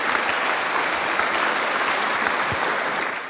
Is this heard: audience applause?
yes